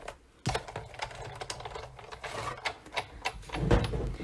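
A Big Shot die-cutting machine being cranked during a paper-crafting session, giving a run of quiet ratcheting clicks and mechanical ticks after a sharp start, close and fairly faint with no voices.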